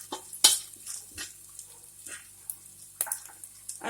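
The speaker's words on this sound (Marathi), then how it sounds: "हे सर्व छान मिक्स करून घ्यायचे आहेत मसाले" A spoon stirs and mixes ground spices and red chilli powder together for a kachori filling, giving soft, irregular scrapes and light taps against the bowl, close up and quiet.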